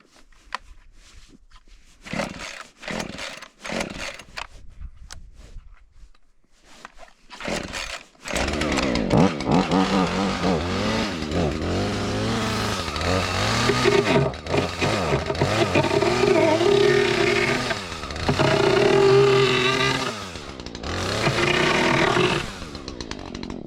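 A chainsaw starts with a few short pulls and bursts, then runs steadily and loudly up close, its engine pitch rising and falling as it cuts, widening an opening while trapping.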